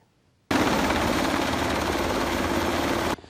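A Taiwanese Army Black Hawk helicopter flies in during a landing at a university sports ground, its dense rotor and engine roar starting abruptly and holding loud and steady for about three seconds before cutting off.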